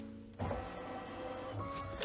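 A Luminaire/Solaris embroidery machine sews out a basting line, a steady close mechanical whir and rapid needle ticking that starts abruptly and runs on evenly at moderate level.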